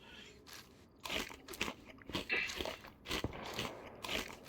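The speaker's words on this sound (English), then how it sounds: "More crisps. Okay, let me just eat these." A character eats crisps in the survival video game DayZ, a quiet series of crunchy bites and chewing crackles in irregular bursts with short pauses between them.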